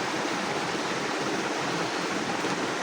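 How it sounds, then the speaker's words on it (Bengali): A constant, even hiss of heavy rain drumming on a tin roof, steady and unbroken without any talk. "এই যে টিনের চালে কিন্তু বৃষ্টির আওয়াজ ঝনঝন ঝনঝন করে"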